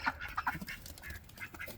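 A Silver Welsh Harlequin duck hen gives a quick run of short, soft quacks, fairly faint and close, with no one talking.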